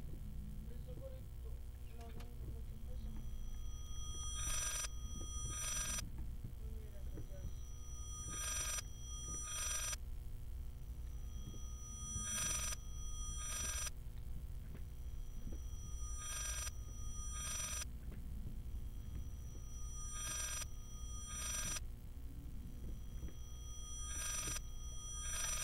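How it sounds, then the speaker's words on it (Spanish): In the horror game Layers of Fear, an old telephone rings in double bursts, about six rings spaced a few seconds apart. The rings sound bright but fairly faint over a steady low hum and rumble. "Es un teléfono en retroceso"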